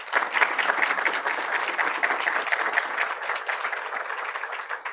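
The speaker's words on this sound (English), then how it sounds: "Let's give another round of applause to honor our history maker," A crowd at a city and county Black History Month celebration in St. Paul gives a round of applause, a continuous, even rush of many clapping hands held at moderate volume for several seconds.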